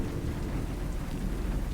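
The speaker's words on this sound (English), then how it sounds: "The drumming of the rain against the window is hurting my head." Rain drums against a window in a steady, dense wash of noise with no breaks, loud and continuous throughout.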